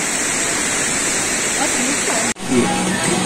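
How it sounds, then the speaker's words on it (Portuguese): Waterfall at Maresias, Brazil, roars as a loud, steady broadband rush of falling water, briefly cut out for an instant before resuming just as strong. "Estamos aqui na cachoeira. Maresias, galera."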